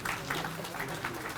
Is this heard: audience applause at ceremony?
yes